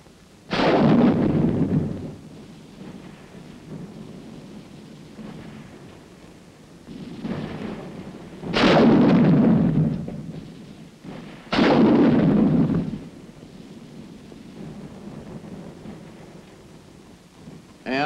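Combat gunfire from an automatic rifle and a 3.5-inch bazooka team firing on defensive positions during a 1951 Korean War assault: three loud, booming blasts with rumbling tails, spaced several seconds apart over a low background rumble.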